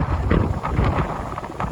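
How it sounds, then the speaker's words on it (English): Strong gusty wind on an Appalachian Trail ridge in the Shenandoah buffets the microphone with a continuous low roar and rumble, no voices. "So windy today. Insane weather."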